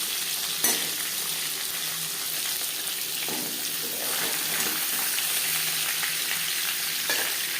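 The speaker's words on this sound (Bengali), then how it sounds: "প্রথম ব্যাচে মাছও মাছের মাথা ভাজা হয়ে গেছে" Pieces of katla fish and a fish head frying in oil, a loud continuous sizzle with crackling pops and occasional stirring scrapes, close and steady with no talk.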